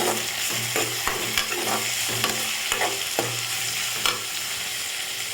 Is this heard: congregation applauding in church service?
no